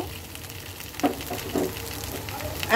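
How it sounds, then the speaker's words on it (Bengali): Fried soybeans tipped into a pan of frying spices, a steady soft sizzle with a couple of brief louder crackles as they land and are stirred. "এই আমার ভেজে রাখা সয়াবিন, আমি এখন সয়াবিনটাকেও দিয়ে দেব।"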